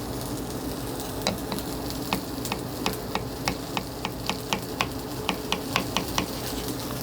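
Cherry tomatoes blister in shimmering hot oil in a pan, giving a steady loud sizzle with frequent sharp crackles and pops that speed up as they go, with no talking.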